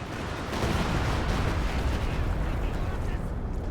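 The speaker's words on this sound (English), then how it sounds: "Stukas shooting." Stuka rocket artillery firing in a WWII strategy game, a dense continuous roar of launches and blasts that holds steady and loud throughout, with no pauses.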